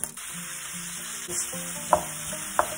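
Almost two pounds of ground beef sizzling in olive oil in a pan while being broken up, a steady soft frying hiss with a couple of sharp scraping clicks from a utensil.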